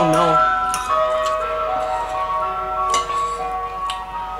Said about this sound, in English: So that's the ice cream truck.